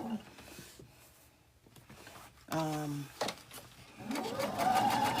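A sewing machine back stitching quilt block seams, its motor whirring in short bursts with pauses between runs, close by, while someone talks throughout.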